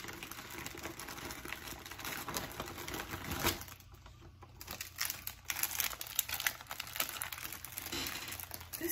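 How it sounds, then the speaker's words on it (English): Steady crinkling and rustling of a plastic bag being handled up close, continuous with a brief quieter pause partway through, no talking. "There's a plastic bag in here."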